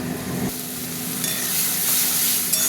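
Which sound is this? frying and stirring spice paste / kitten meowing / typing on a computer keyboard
frying and stirring spice paste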